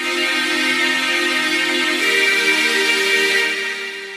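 Sustained orchestral string build from Edinburgh presets, a thick, steady chord that swells slightly in loudness midway before easing off, loud and alone.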